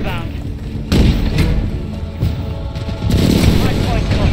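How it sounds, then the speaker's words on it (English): Precision airstrike explosions in a first-person shooter, a series of heavy booms and thuds hitting about every second, loud and close, with voices talking over the blasts. "Friendly precision airstrike inbound."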